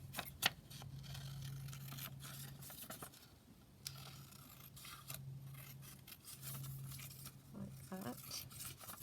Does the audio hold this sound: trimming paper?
yes